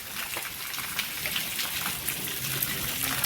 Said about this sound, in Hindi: 4 घंटे लगातार बारिश पड़ने के बावजूद भी अभी बारिश बंद नहीं हो रही